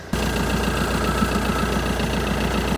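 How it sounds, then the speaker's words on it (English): Tractor engine running in a field in Lincolnshire, a steady rhythmic chugging drone with a pulsing low beat that holds constant throughout and then stops abruptly. "There's some tractor stuff happening in the field."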